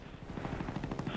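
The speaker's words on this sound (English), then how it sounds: "Look at the helicopter." A helicopter in a shooter video game, rapid thudding rotor chop mixed with bursts that sound like gunfire, dense and continuous.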